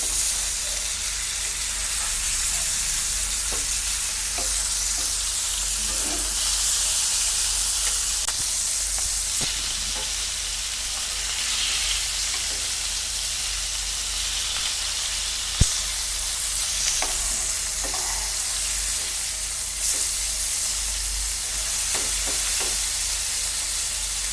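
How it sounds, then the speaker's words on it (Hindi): Chapli kebabs made from raw minced meat fry in a pan with a steady, dense sizzle and hiss. The crackle runs unbroken throughout, with a few small pops and occasional spatters and no talking. "ये देखिए इन्हें इस तरह दोनों साइड से अच्छी तरह फ्राई कर लें।"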